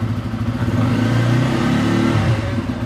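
A Bajaj Pulsar N250 ABS motorcycle engine revs steadily near by, a loud, continuous mid-pitched drone that swells and holds through the middle before easing back slightly.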